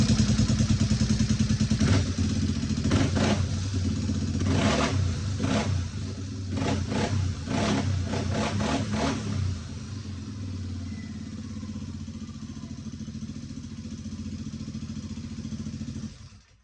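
Quad ATV with a new timing chain and a Big Gun racing exhaust, idling high and loud close by, a steady rumbling drone broken by several sharp throttle blips before settling into an even idle.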